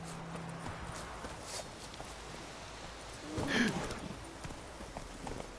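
Faint horse hoofbeats in Witcher 3 clop along steadily beneath a soft ambient bed, swelling briefly with a snort-like burst midway.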